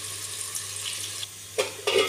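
Onions sizzle and fry in a pan for mutton nalli nihari, a close, steady crackle with a few louder bursts of spatter near the end.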